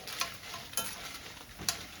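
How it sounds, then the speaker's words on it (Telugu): Green chillies fry in a pan, giving a soft hiss with a few light clicks and clinks of a utensil against the pan. "ఇదిగోండి మిర్చి కూడా ఫ్రై అయిపోయినాయి కదా,"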